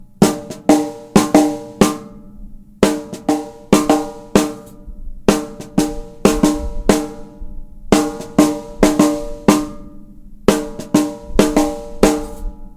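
Drum kit playing a full makossa groove with all three parts layered, a tight repeating pattern of crisp cymbal and snare strokes over low drum hits in steady bursts, loud and close with no talk.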